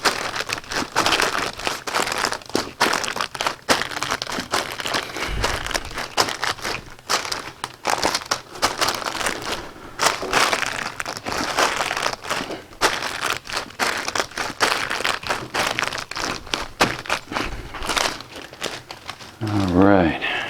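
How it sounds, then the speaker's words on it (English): Parchment paper crinkles and crackles steadily as it is pressed down by hand on a homemade grain and seed block for chickens, a close, dense rustling that runs continuously with brief crunchy surges. "We'll use a piece of extra parchment paper here and push it down"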